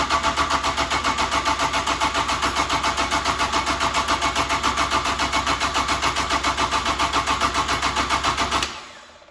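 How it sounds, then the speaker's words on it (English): A Kubota diesel engine cranks over steadily on the starter to bleed air from its injection pump, a loud, even, rapid chugging rhythm that runs for about eight and a half seconds and then cuts off abruptly. "we're gonna go ahead and crank it over, and we're gonna bleed all the air out of the pump"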